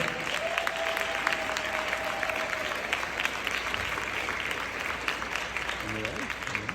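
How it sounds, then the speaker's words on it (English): An audience at a community address on seniors gives a sustained round of applause, a steady dense clatter of clapping that fills the whole stretch at moderate level. "let's give them a round of applause for making these storms"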